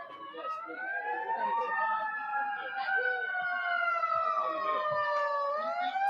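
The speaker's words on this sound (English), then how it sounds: "I hear sirens in the distance." Emergency sirens wail during an outdoor high school baseball game, their long rising and falling tones steady throughout, fairly distinct but distant, with faint crowd and field ambience beneath.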